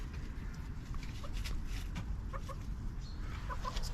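Hens in a backyard chicken run, among them a small black Araucana, cluck in short, repeated bursts over a steady, low rumbling background, fairly close and with no talking.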